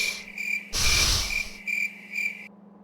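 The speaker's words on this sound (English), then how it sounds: "Oh, the crickets are back." A stream alert sound effect of crickets chirping plays in steady repeated pulses over a low constant hum, broken by a loud burst of noise near the start, then cutting off abruptly.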